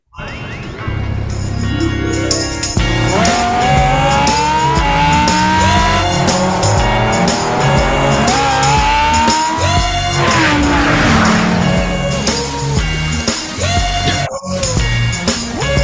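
Racing cars in The Crew Motorfest video game roar at high revs with repeated shifting engine pitch and prolonged tire squeals, loud and continuous throughout, ending with a brief cut near the close.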